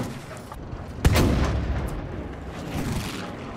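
A bomb explodes against a Sherman tank in Battlefield V, one loud, deep boom that rolls out and fades, followed by a low rumble of distant battle.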